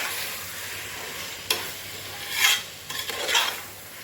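Chicken for biryani cooking in a pressure cooker pot, a soft sizzle under a few metallic spoon scrapes and knocks against the pot, close and moderately loud, with no one talking.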